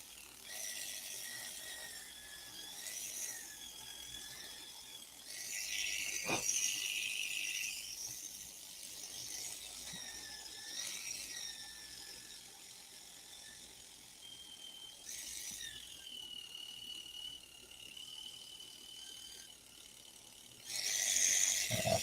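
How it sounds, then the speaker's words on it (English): A power sander with a worn sanding pad whirs continuously, its pitch rising and falling as pressure changes, with brief louder bursts and a sharp click midway. "I think I need to put a new sanding pad on there."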